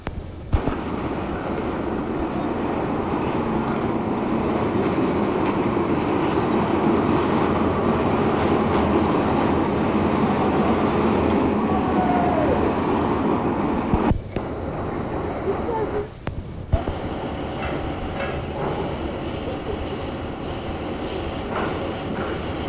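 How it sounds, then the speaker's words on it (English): A BR Class 74 electro-diesel locomotive in a 1977 recording, a loud sustained rumble and rail roar with clickety-clack that breaks briefly and resumes, with some voices faintly in the background. "I can share the actual sound of a Class 74 in action"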